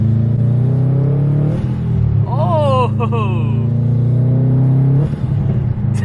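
A Subaru WRX STI idles with a loud, close engine rumble, then revs with rising intake and turbo whoosh and spools down before a second blip. A person briefly exclaims.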